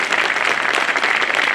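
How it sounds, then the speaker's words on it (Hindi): An audience at a Bar Council of Delhi enrolment meeting claps loudly and steadily, a dense wash of applause filling the room without pause. "जितनी जोर से आप तालियां बजाएंगे"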